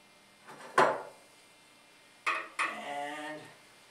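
Metal wrench handled on a screen printing frame: a sharp clank, then two more knocks a moment later with a short ringing scrape trailing off, close and otherwise quiet.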